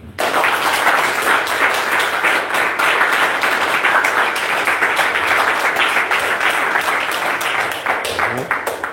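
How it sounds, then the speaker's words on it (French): Loud, continuous applause from a large church congregation, dense rhythmic clapping filling the whole stretch, fading slightly near the end. "Applaudissons pour le Seigneur."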